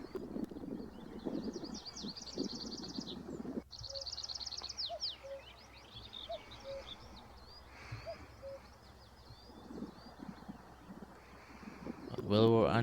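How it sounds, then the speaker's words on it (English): A tree pipit sings in open countryside, its quick trilling phrases repeating at moderate distance over a low background murmur, with other faint bird calls and a brief closer noise at the end. "So yeah, so tree pipit."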